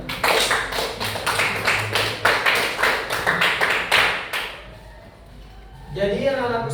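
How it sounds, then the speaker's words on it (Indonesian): Classroom applause from a group of students, a burst of rapid overlapping claps lasting about four seconds before it fades, followed by a teacher's voice speaking. "Jadi beri aplaus dulu untuk temannya."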